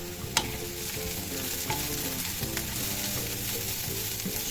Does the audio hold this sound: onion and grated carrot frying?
yes